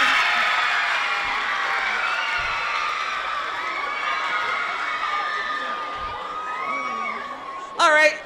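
Crowd of students and families at a math olympics awards ceremony, sustained cheering, whoops and children's shouts with clapping underneath, tapering slightly before a brief loud burst near the end.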